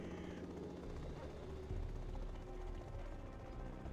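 A damaged Chinook helicopter in a real-time strategy game makes a steady, low rotor drone under a dense bed of battle sounds, with no break across the whole stretch.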